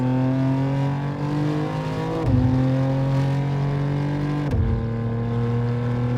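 A 711 hp BMW G87 M2 Clubsport cruising on the Nürburgring Nordschleife, a loud steady in-car engine drone at light throttle with two quick gear-shift dips in pitch before it settles again.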